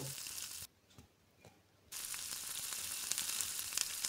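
Grated carrots frying in ghee make a soft, steady sizzle that drops out briefly for about a second, then returns with light crackles and stirring taps. No one speaks.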